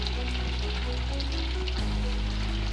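Semolina gur pitha fries in oil in a pan with a steady close sizzle and fine crackle, and a low hum runs underneath the whole time.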